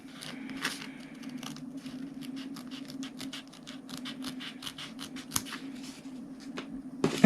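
Scissors snip applique fabric close to its stitching, a quiet, steady series of small crisp cuts heard up close over a low background hum.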